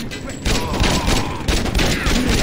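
SMG gunfire in the video game Saints Row 2, a loud, continuous rapid burst of automatic shots that runs dense and unbroken through the whole moment.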